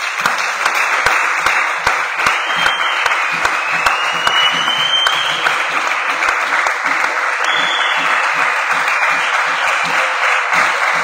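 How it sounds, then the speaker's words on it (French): A church congregation at a Sunday service breaks into sustained, dense applause for more than ten seconds. The clapping is loud and steady throughout, with faint voices mixed in. "Acclamons pour lui."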